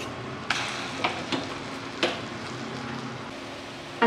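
A paste of coconut, garlic and onion fries in a pan with a steady low sizzle, broken by a few sharp clinks and scrapes of stirring at irregular moments, close by with no talking.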